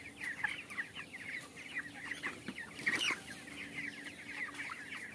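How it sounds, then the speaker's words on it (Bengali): Farm chickens cluck softly and repeatedly, a busy overlapping chorus of short calls with one louder squawk midway, fairly faint and close-range, no talking. "দেখুন মুরগি কত সুন্দর আছে,"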